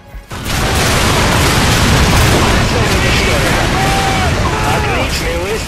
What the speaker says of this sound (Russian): Отличный выстрел, дружище.